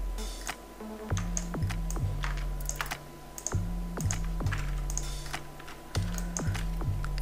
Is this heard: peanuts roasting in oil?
no